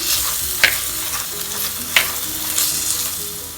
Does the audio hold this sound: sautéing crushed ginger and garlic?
yes